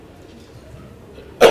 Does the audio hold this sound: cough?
yes